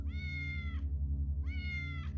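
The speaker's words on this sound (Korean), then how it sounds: "고양이 소리가 또다시 들려오기 시작했다." Two drawn-out cat meows, each close and clear with a slight wavering pitch, sounding over a low steady hum in a horror radio drama.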